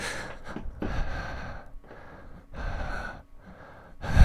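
A voice imitates slow, low breathing: drawn-out raspy inhales and exhales, close and fairly loud, repeated in a sleepy rhythm.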